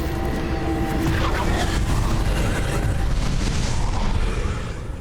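A booming Confringo spell blast in Hogwarts Legacy, a rumbling burst of explosive noise that fills the whole moment, loud and continuous with crackling debris.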